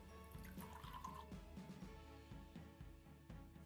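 Water poured into a measuring cup on a kitchen scale, a quiet continuous trickle and dribble with small drips, faint and close, no talking.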